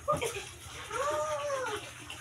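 Water runs into a bath under hot-weather talk from an adult and children, a steady rushing flow heard close by beneath the voices.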